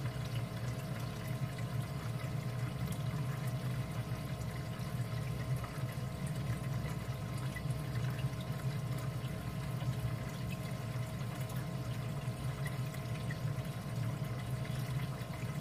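Water runs steadily through a reactor tank set up with mud, a continuous, even wash of flow and low pump-like rumble, close and unbroken with no talk.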